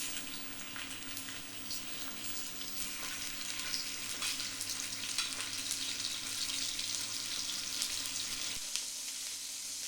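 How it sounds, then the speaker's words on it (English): Cabbage wedges searing over really high heat in a hot pan: a steady, loud sizzle and crackle held throughout, close by, with a faint low hum beneath and no speech. "I'm going to sear it at really high heat and get it nice and charred on these two sides"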